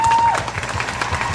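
A short burst of clapping from a congregation at a church gospel meeting in Taoyuan, dense and fairly loud, with a brief sustained tone at the start.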